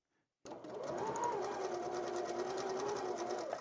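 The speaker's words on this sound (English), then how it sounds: "I'm going to now begin piecing chain style all of my block units together" A sewing machine starts abruptly and runs at a steady fast hum with rapid needle clatter while chain piecing quilt block units, close and continuous until the end.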